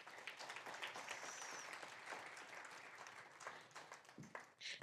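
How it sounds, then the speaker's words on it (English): Faint, continuous applause from a panel discussion audience, a steady wash of many hands clapping heard from a distance. "Please come on stage and a round of applause"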